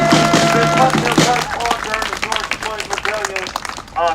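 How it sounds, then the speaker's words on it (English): Crowd clapping and cheering at an outdoor protest rally in front of a Minnesota governor's mansion, dense and steady at first, then thinning into scattered claps and voices, with a person talking over it. "Give her a big round of applause."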